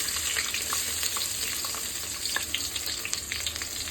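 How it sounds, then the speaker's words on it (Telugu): Thinly sliced onions fry in hot oil with bay leaves in a pan, a steady close sizzle and crackle with occasional stirring scrapes and pops, no voices. "ఇవి లైట్గా గోల్డెన్ కలర్ వచ్చే వరకు ఫ్రై చేసుకోవాలి"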